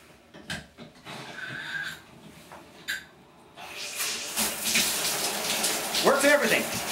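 Water from a shower in a tiny transforming apartment starts hissing and spraying after a few quiet knocks and clicks, then runs steadily and fairly close, with brief voices near the end.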